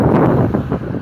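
Strong wind buffets the microphone on an open street near a lake, a loud, steady low roar with gusty fluctuations throughout and no talking.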